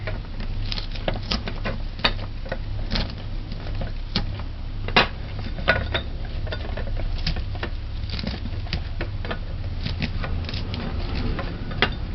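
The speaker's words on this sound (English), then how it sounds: "Just gonna smash the garlic." Garlic being smashed on a kitchen board, a steady run of sharp taps and knocks repeating for several seconds, close and moderately loud over a low constant background hum.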